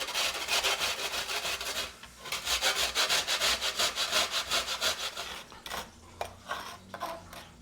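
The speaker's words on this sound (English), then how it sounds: "I'm going to take a piece of toast and grate it" A piece of toast is grated into breadcrumbs in rapid back-and-forth strokes, a close, dry scraping rasp with a short pause early on and quieter separate strokes toward the end.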